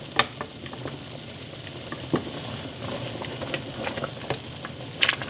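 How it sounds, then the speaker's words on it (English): A spoon stirs taco sauce simmering in a pot, giving soft scraping and gentle bubbling with a few sharper scrapes of the utensil against the pot, steady and fairly close without any talk. "I'm stirring frequently to keep it from sticking"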